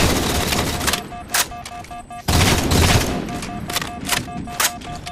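Rapid gunfire from weapons in a Halo 4 match, loud bursts of shots with brief gaps and a short lull in the middle before the firing picks up again.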